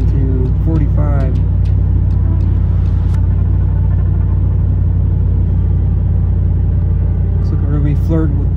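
A full-size V8 sedan cruising while the driver eases off the throttle gently, giving a steady low engine and road rumble heard from inside the car, with someone talking over it at the start and end.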